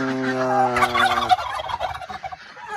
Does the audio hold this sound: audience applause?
no